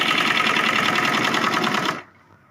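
A sewing machine stitches a Rajputi kanchali blouse, running in one loud, fast, even burst of close mechanical pulses for about two seconds before stopping abruptly into quiet.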